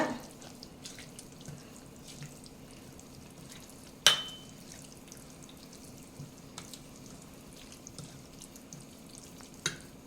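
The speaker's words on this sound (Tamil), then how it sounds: "இப்போ நம்ம தண்ணி கொஞ்சம் ஊற்றணும்." Water pours steadily into a pot for making semiya idli, with soft splashing, close and low in level, broken by a sharp clatter partway through.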